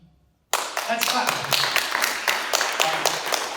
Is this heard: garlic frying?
no